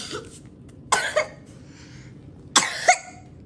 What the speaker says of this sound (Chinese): 这一下一累，又给累咳嗽了